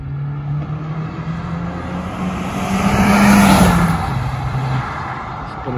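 A hybrid-turbo Opel OPC hot hatch, stock apart from black wheels on white paint and a soft exhaust, accelerates hard with a steady engine drone that rises and swells mid-clip before easing off, heard continuously without speech.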